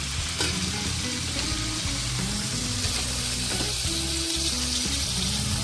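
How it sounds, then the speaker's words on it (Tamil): Steady sizzling of chopped tomatoes sautéing in a pan, with soft stirring scrapes and occasional clinks, close by and no voices. "இப்போ நம்ம தக்காளியை நல்லா வதக்கிக்கலாம்"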